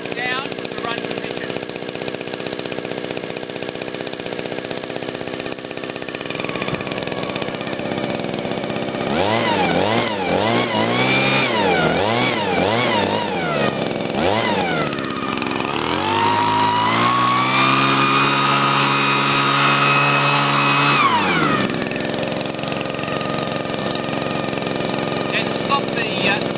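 A 909 Tools PB26 petrol leaf blower engine runs loud and close without a break, its pitch wavering and climbing into a higher rev before settling back down.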